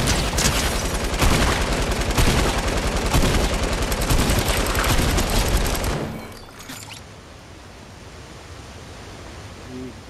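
Dense, continuous gunfire and explosions from the video game Fortnite play loudly for about six seconds, then drop to a quieter, steady background of game ambience.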